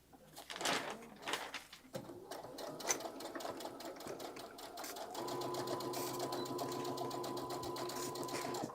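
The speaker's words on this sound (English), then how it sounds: "I was kind of just sewing a couple pieces in the background" Sewing machine stitching dress pieces, starting after scattered clunks and handling noises and then running as a steady close mechanical whir to the end, with faint bird coos in the background.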